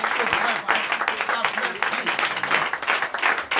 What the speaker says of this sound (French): je vous demande d'applaudir et très fort